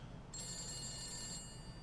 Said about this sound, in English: Alright, I'll answer the phone.